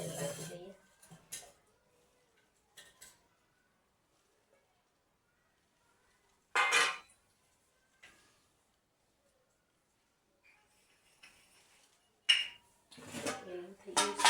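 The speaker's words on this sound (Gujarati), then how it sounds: "હવે આપણે થાળીમાં અને આ વાટકીમાં તેલ લગાવી લઈએ" Oil being spread on a metal plate and small metal bowl, giving scattered clinks and scrapes of metal on metal, separated by quiet gaps and with a voice speaking in between.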